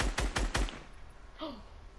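Three quick gunshots from a video game, rapid and close together, then a short electronic chirp in an otherwise quiet space.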